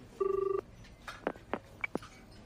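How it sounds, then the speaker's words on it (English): A telephone rings with one short electronic trill, followed by a few brief clicks and blips as the line connects, heard close and clear with no talk. "It's ringing for you now."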